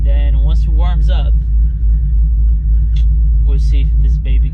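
A cold C6 Corvette engine idles with a steady, loud low rumble throughout, while someone talks over it.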